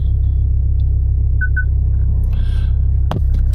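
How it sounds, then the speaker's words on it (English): Steady low engine rumble fills a car interior, droning continuously, with a few faint chirps and a brief click near the end. "now I'm sitting in my loud ass car"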